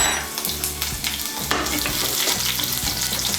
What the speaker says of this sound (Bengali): আদা কুচি আর রসুন কুচিটাকে একটু তেলের মধ্যে নাড়াচাড়া করে নিয়েছি।